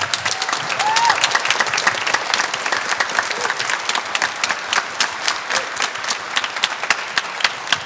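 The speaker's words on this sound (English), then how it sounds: "So another round of applause for our student teacher" A high school concert audience claps for a student teacher at a band spring concert, the applause loud, dense and steady throughout with no break.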